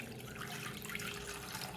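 Water running steadily for cooking beef (buffalo) tongue in a Kerala-style recipe, a continuous broadband splashing rush like a tap filling a pan, close and even throughout with no voices.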